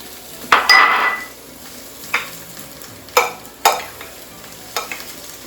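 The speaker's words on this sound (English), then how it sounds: "So we'll mix up our orzo with this." Orzo salad mixed in a bowl with chopped basil: a few distinct clattering scrapes and knocks at irregular intervals, close and fairly loud over a quiet background.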